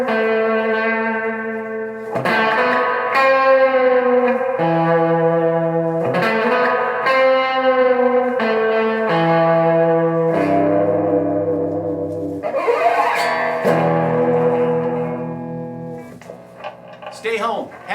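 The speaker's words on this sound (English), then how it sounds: "This amp has reverb too" A 1967 Gibson ES-335TDC electric guitar plays sustained chords and notes through an amplifier, with a spacious reverb tail lingering after each strum.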